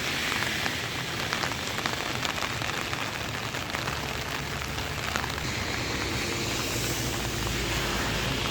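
Heavy rain pours steadily during a night downpour in Perinthalmanna, Kerala, a dense, continuous hiss of drops on surfaces that stays loud and even throughout with no voices.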